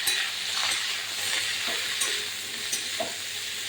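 Bottle gourd greens with salt and turmeric sizzle steadily in a frying pan as a spatula stirs them, giving a few soft scrapes and knocks over the hiss.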